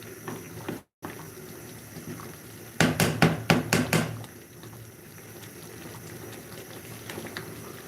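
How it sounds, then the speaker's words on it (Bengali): Milk with rice, fried onion (beresta) and ghee comes to a boil in an uncovered pot on high flame for pulao. A steady bubbling simmer carries through, broken by a quick run of sharp clinks or taps near the middle and a brief dropout early on. "চালটা কিন্তু ফুটে আসছে"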